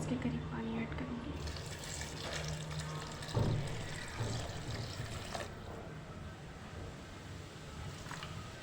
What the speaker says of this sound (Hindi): इसके अंदर मैं 2 गिलास के करीब पानी ऐड करूँगी